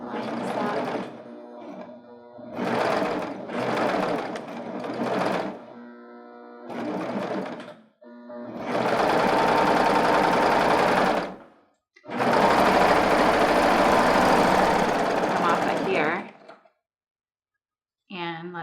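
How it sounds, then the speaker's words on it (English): A serger sewing machine stitching a gathered ruffle onto fabric runs in loud, steady bursts of whirring, several short runs followed by two long sustained passes with brief pauses between. "we've attached the ruffle to the fabric and we've serged at the same time"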